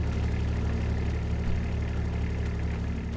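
A tractor engine idles steadily in a farming roleplay video game, a constant low throbbing hum with a slightly knocking rhythm, close and even throughout, with no voices.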